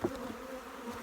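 Honeybees buzz at an opened hive in an apiary during an inspection, a close, continuous droning hum with no talk.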